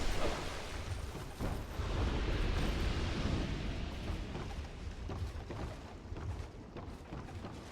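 An exploder enemy blows up in Dark Souls II, a sudden loud blast followed by a long, rolling rumble that slowly fades, with no voices over it.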